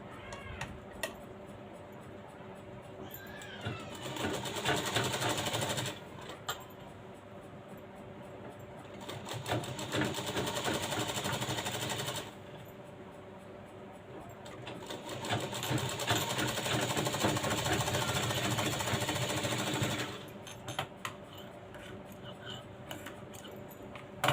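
A sewing machine stitches a cross strip onto a blouse in bursts of steady rapid clatter, running for several seconds, pausing, then starting again, close and fairly loud with no talk.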